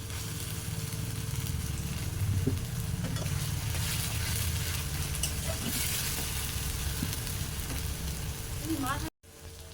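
Chopped tomatoes hit hot oil in a pan after cumin, fennel, chilli and radhuni spices, giving a steady close sizzle and fry with a few soft stirring knocks throughout.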